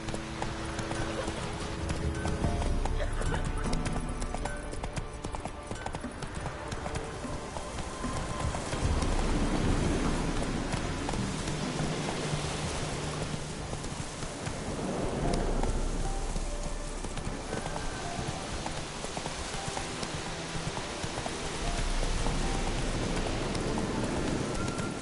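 The horse Roach gallops through rain in Witcher 3, steady clip-clop hoofbeats running over a continuous hiss of rainfall, with an occasional whinny and brief voices.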